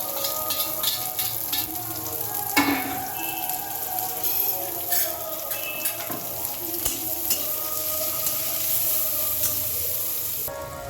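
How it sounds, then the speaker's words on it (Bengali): Vegetables and onion fry in a pan on a low flame, a close, steady sizzle broken by occasional scraping stirs and light clinks of the utensil, with no one talking. "যতক্ষণ সবজিটা আমার ভাজা হচ্ছে গ্যাস সিমে করে একটু ভেজে নেব"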